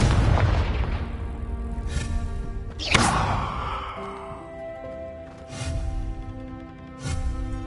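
Confringo blasting spell from the Harry Potter games: a sharp, loud explosive burst lands near the middle and rings out. Several softer booms follow at intervals, and there is no talking.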